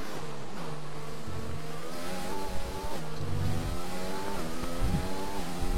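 A race car engine in a BMW sim racing qualifying lap at the British Grand Prix howls continuously, revs rising and dropping through gear changes, loud and close with no talk.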